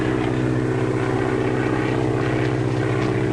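A propeller airplane flies low overhead, preparing to land: a loud, steady engine drone with throbbing low hum fills the whole stretch without a break.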